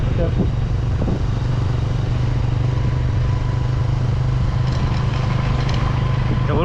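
A motorcycle engine-braking on a mountain road drones loud and constant up close, with rushing wind and rattling, and a voice faintly audible beneath the noise.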